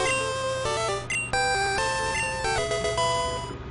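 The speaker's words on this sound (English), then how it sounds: "That's the sound of a metronome." Metronome move effect from the Pokémon Yellow video game: a quick, busy run of bright electronic chiptune tones stepping up and down in pitch, loud and alone for several seconds.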